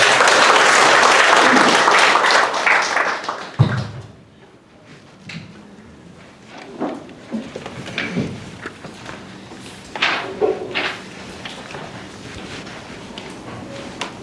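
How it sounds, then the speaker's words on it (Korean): Audience applause welcoming a lecturer to a Confucian culture lecture hall, a loud dense burst of clapping that fades out after a few seconds, followed by scattered faint room noises. "큰 박수로 맞아주시기 바랍니다"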